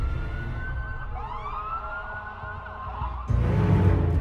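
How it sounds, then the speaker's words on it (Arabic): A police car siren wails in rising and falling sweeps at moderate distance for a few seconds, then a sudden louder wash of broadband noise takes over near the end. "قطع كلامي صوت سريني في الشرطة"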